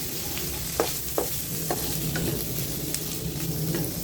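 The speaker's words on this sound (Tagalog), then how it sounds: "Mainit na ang ating mantika. Lagyan na natin yung hotdog at sausage." Hotdogs and sausages sizzle steadily in hot cooking oil in a frying pan, a continuous crackling hiss broken by a few louder pops and spatters.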